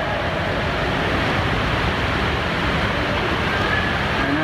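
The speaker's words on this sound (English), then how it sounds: "As you can see, the water is moving very quickly." Ocean tide waves with fast-moving water, rushing and churning as a loud, continuous broadband wash close to the microphone, with some wind buffeting and no voices.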